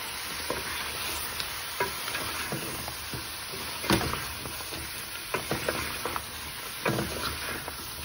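Gourd and shrimp curry stirred in a pan, with a steady low sizzle and repeated scraping clicks of a spoon against the pan over about eight seconds, fairly quiet, no voices.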